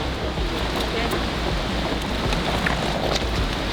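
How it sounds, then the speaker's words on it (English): Soft, even hiss of rain falling, a dense steady patter with no clear voices over it. "Looks like the rain's starting to come down."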